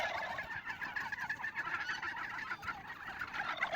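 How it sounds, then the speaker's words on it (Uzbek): Faint, continuous poultry chatter from roosters, overlapping honking and gobbling calls from a flock at a distance, with no talking. "Mana xo'rozlar"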